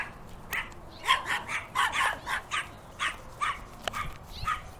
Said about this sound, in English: There's a ridiculously little dog.